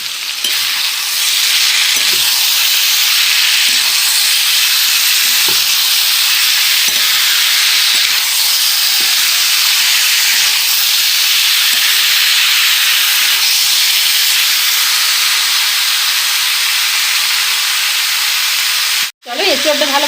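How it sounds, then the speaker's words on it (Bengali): Green jackfruit fries in hot oil and cooked-down spices in a pan, a loud, continuous close sizzle with faint scraping taps of stirring throughout. "এঁচড়টা দিয়ে আমি নেড়ে নেব।"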